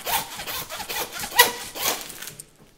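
A handsaw cuts through cow bone while a beef carcass is broken down, giving quick rasping back-and-forth strokes, close and fairly loud, that fade out at the end.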